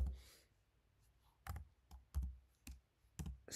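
Keys struck on a computer keyboard while entering a Windows command, a few separate clicky taps spaced apart, close and clear in a quiet room.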